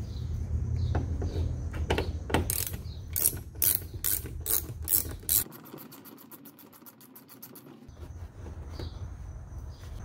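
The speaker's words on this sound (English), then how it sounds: "Go ahead and remove the other 6 T25 Torx screws." A ratchet driver clicks rapidly while T25 Torx screws come out of a Volvo XC60 front bumper, with sharp repeated ratcheting bursts close by, then a brief fast whirring spin of the tool, all without speech.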